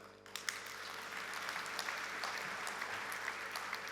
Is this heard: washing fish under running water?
no